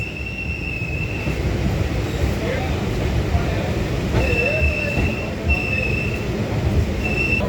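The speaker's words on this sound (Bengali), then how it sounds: "ট্রেন পৌঁছালো বিবাদীবাগ স্টেশনে" A Kolkata local train from Sealdah pulls into BBD Bag station with a steady rumble, wheel squeal and rising brake tones, loud and close, while someone talks over it.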